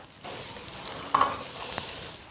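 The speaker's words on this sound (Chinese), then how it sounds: "另起锅来一点红油，没有红油的就用普通的菜籽油。 下姜、葱、蒜壳壳" Ginger, scallion and garlic frying in red chili oil in a wok, a steady soft sizzle with a brief louder crackle midway.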